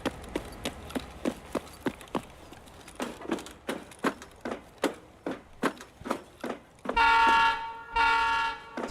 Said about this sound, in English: I'm getting back in the train.